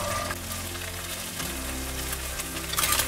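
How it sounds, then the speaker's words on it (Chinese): Egg stir-fried in leftover salmon oil in a hot pan, a steady close sizzle and crackle with faint utensil scraping, continuous throughout. "用原来的鱼油来炒蛋"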